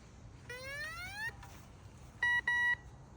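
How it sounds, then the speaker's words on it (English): Metal detector beeps ring out over a metal pool wall: a rising warble of tones, then two short, sharp beeps close together, over quiet background hiss. "the pool itself is metal, so I feel like it's beeping"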